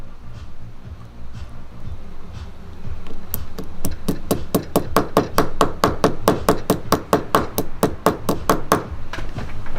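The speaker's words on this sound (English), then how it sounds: "the metal is slowly moving down. And I'm creating a little rivet" A metal rivet is hammered for an inlay in a studio. After a few quiet seconds comes a steady run of about twenty sharp, evenly spaced close taps that carries on to the end.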